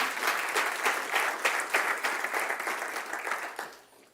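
Steady applause from a church congregation, dense clapping sustained for several seconds before tapering off toward the end.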